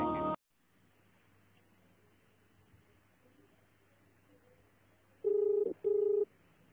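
Telephone tones during a phone call: after a short burst of noise and a long, quiet stretch of low hum, two steady, loud tones sound back to back near the end, each about half a second long.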